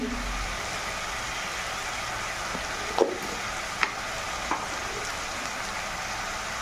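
Onion paste and spice masala for a chicken dish sautéed and stirred in a pan, giving a steady, moderately quiet broadband sizzle with a few soft clicks of a spoon against the pan.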